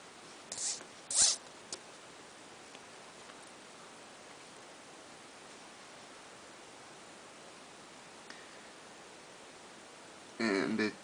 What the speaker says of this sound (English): And you take your zip tie and just feed it through.